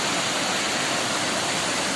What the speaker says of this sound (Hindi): तो ये नदी आती है ऊपर भद्रेश्वर से और लिलाड़ी के बीच से और हड़ुंग मानद होते हुए यहाँ से ये नदी यहाँ से बह रही है।